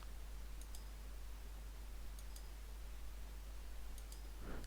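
Three pairs of quick, light computer mouse clicks spaced about two seconds apart over a steady low hum, while quarter crosses are placed in cross stitch design software.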